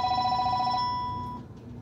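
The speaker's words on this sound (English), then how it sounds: "Of course the phone would ring." A telephone rings indoors with repeated electronic trills for about a second, then the ringing fades out under low room noise.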